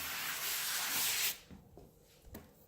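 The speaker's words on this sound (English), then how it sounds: "Go with a sanding sponge." Steady abrasive rubbing, a close scratchy sound of a sanding sponge on furniture for over a second, then it stops, leaving a few faint knocks and shuffles.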